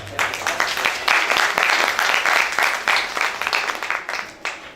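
An audience claps at a folk dance evening performance, a thick, continuous patter of many hands ringing out steadily at close range with a few sharper slaps standing out.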